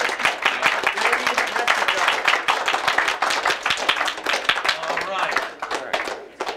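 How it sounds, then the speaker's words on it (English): Audience clapping for an electronic engineering capstone presentation team, a dense, steady round of hand claps with crowd noise and voices mixed in, fading slightly toward the end. "A round of applause for Relay Engineers"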